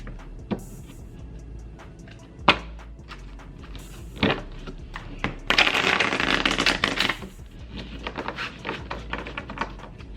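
Tarot cards being shuffled by hand: scattered soft taps lead to a dense, rapid riffling burst in the middle, then lighter card flicks trail off, close and fairly quiet with no talking.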